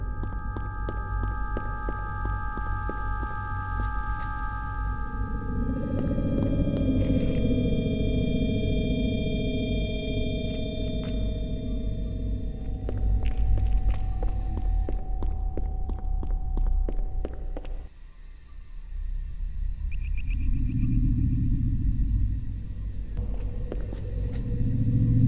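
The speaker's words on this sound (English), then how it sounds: "But what is scary are the ambient noises, and I'll try to capture the creepiest ones as I walk around here." Creepy ambient sound of an empty alien spaceship map in Halo 2: a steady low rumble with sustained eerie tones and faint mechanical clanks, continuous and fairly loud, briefly dipping near the end before swelling again, with no voices.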